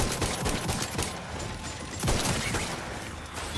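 Rapid gunfire rattles in The Outer Worlds 2, dense bursts of shots with brief gaps, loud and close, repeating steadily throughout with no voices.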